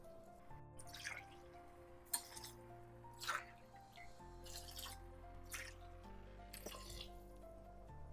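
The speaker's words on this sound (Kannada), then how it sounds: "ಚೆನ್ನಾಗಿ ಮಿಕ್ಸ್ ಮಾಡಿಬಿಟ್ಟು 3 ಕಪ್ಪು ನೀರು ಹಾಕೋಣ ಇದಕ್ಕೆ" Three cups of water poured into a soybean vegetable pulao rice mixture in a pot, heard as a series of soft splashes and drips over a steady low kitchen hum.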